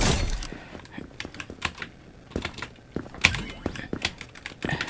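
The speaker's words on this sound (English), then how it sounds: "The keyboard sounds sync up with everything." Computer keyboard typing up close, a quick irregular run of sharp key clicks with a few louder taps.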